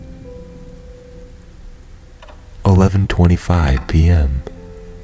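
Rain falling at night, a steady soft patter with faint ticking drops in the background, then a voice takes over in the foreground.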